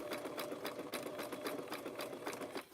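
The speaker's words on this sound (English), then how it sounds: "I was sewing." A sewing machine stitches fabric-wrapped rope into a coaster, running in quick rhythmic bursts of needle clatter, close and fairly quiet with no voices.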